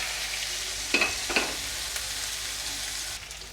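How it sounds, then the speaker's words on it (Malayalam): Sliced ginger, green chili and onion fry in a pan for upuma, a soft steady sizzle broken by a few sharp stirring scrapes near the start, with no voices. "ഇഞ്ചിയും പിന്നെ പച്ചമുളകും സവാളയും കേട്ടോ."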